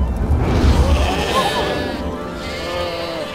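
Sheep bleat in a scene of shepherds watching their flocks at night, a few moderate bleats blended with a dense background of other sound.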